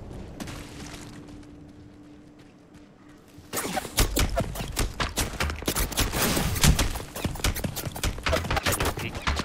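Gunfire in the video game Apex Legends: after a quieter stretch, rapid bursts of loud shots break out and continue densely to the end.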